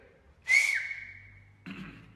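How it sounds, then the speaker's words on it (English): A person gives a single loud, shrill whistle held for about a second, followed by a shorter, lower burst of sound, set against a quiet background. "He's blowing the whistle."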